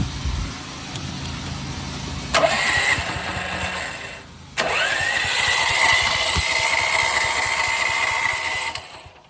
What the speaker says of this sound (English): See how it tries to start?